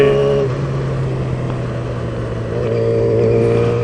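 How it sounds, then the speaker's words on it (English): A motorcycle, either a 2010 Yamaha R6 or a 2014 Honda NC750S, drones loudly and steadily while riding, its exhaust note swelling slightly as the engine revs up toward the end. "I love the sound of your exhaust as well."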